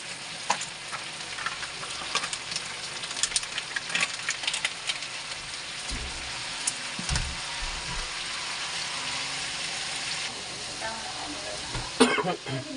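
Dried fish (tuyo) frying in a pan with oyster sauce, a steady bright sizzle and crackle running throughout, with a few soft clanks of utensils near the end.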